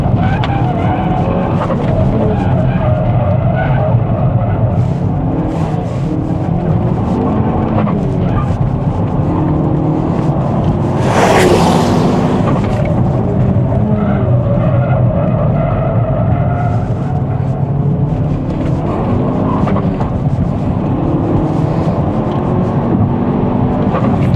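A Ford Focus ST race car roars continuously at high revs nearby on a track, engine note rising and falling through gear changes, with a brief burst of tire squeal midway.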